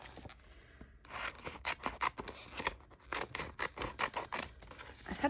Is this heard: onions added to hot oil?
no